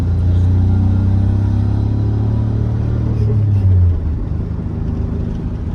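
A Nissan Z31 engine pulls hard under acceleration while the car is driven home, a loud, sustained rumbling drone from inside the car that rises in pitch, then drops back as the throttle eases near the end.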